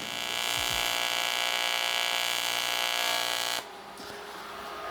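An electric welder runs steadily on the bottom side of a steel seat plate for a BMW R80 motorcycle, a sustained buzzing crackle for several seconds that cuts off, leaving a quieter hum.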